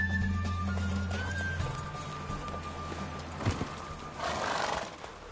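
Roach the mare gallops in The Witcher 3 with steady hoofbeats, mixed with a brief whinny and rustling game ambience, moderately loud and without speech.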